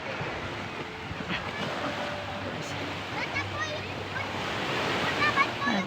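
Sea waves washing onto a beach in calm water, a steady soft surf hiss with gentle swells, moderately faint and continuous.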